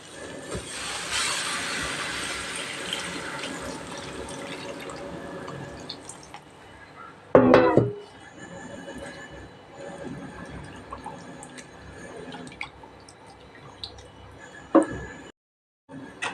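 Tamarind water poured into a pan of brinjal kuzhambu (oil-style kathirikai kulambu), a wet splashing pour with one sharp splash partway through and quieter dribbles afterward, no talking.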